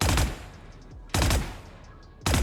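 Gunfire from the tactical shooter Valorant: three loud, sharp bursts of automatic fire spaced about a second apart, each with a brief crackling decay, no talking.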